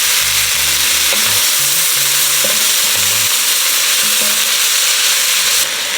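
Onions and butter cooking in a pot on low heat, a loud, dense, steady sizzle running throughout with faint low tones underneath and no voices.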